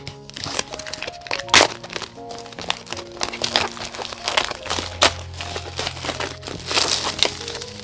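Plastic packaging on a children's mosaic craft kit crinkles and crackles as it is pulled open by hand. Sharp cracks and crunches come close and continuous, mixed with a few quiet bumps.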